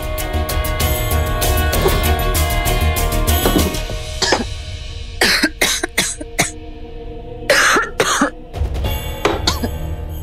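A woman coughs repeatedly in a series of harsh, separate bursts, some clustered close together, over a low background hum with soft music.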